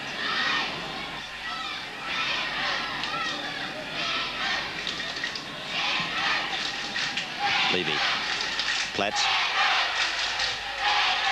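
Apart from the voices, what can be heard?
home crowd at Penrith rugby league match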